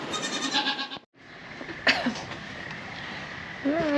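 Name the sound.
goats bleating on a farm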